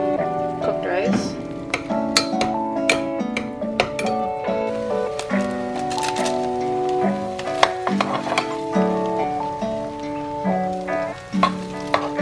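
Cooked rice frying in a pan: a constant sizzle runs under music with melodic tones throughout, occasional clicks of a utensil against the pan.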